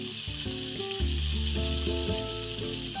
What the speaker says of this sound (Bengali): এবার দেব টুকরো করা সেই টমেটো